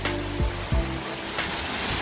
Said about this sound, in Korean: 6단 폭포입니다.